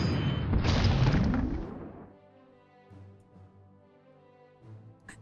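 A B4 howitzer fires in a World War II strategy game, a loud, close boom that rolls off over about two seconds. Quieter rumbles and game sounds follow.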